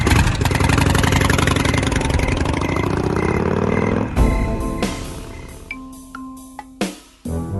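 A motorbike engine runs loud and steady, idling and revving with a mechanical clatter for about four seconds, then cuts off; scattered knocks and clinks follow in a quieter space.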